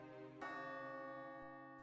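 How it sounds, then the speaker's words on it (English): A church bell strikes once and rings on with a rich, sustained tone that slowly decays, heard alone and at moderate distance. "The bell tolled"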